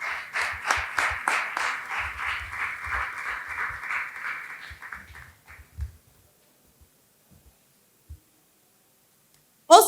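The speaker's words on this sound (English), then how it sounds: "Let's give him a round of applause." An audience at a fireside chat on the music business claps, a steady burst of applause that fades out after about five seconds, leaving near silence.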